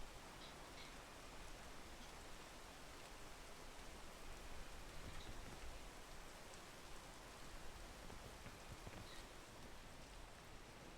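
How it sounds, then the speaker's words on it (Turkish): Rain falls in the video game PEAK as a steady, soft, broadband hiss, a faint wash of dense patter with no break and no voices. "yağmur yağıyor şu an hiçbir şey yapamaz"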